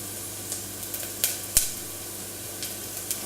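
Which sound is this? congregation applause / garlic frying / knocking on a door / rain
garlic frying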